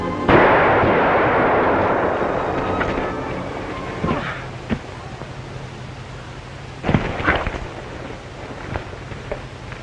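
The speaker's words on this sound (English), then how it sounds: "Drop that gun or I'll shoot." Gunfire in a standoff in the Canadian Northwest: a heavy, booming blast opens loud and rumbles away, followed by a few fainter sharp cracks later on, with no talk.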